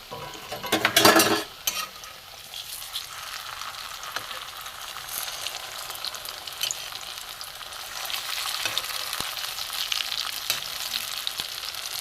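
Flattened rice chops fry in oil, opening with a loud burst of sizzling and clatter before settling into a steady, close crackle of frying with scattered pops.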